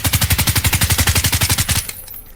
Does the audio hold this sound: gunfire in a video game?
yes